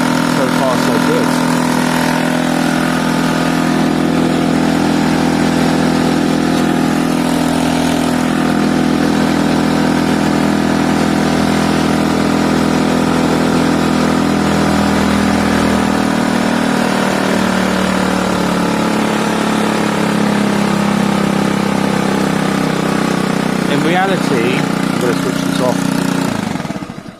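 A Piaggio Fly 50cc scooter engine idles steadily and loudly at close range for the whole stretch with a constant drone, while a voice talks over it.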